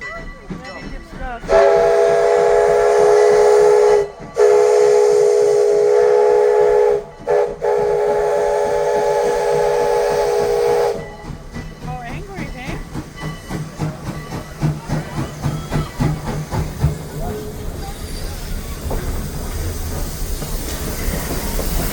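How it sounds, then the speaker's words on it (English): A steam locomotive, No. 2024, sounds a loud, long whistle in several blasts with brief gaps, then rumbles and chuffs away as its rhythmic beat fades, with no one talking. "He did the whistle wrong."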